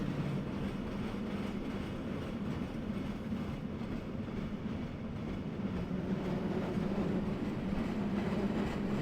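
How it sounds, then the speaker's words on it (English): Train ride in the video game Riven, crossing a barren rocky island: a steady rumbling rail drone with a faint rhythmic clatter, continuous and moderately loud for the whole stretch, with no talk. "Is this like the Disney World train?"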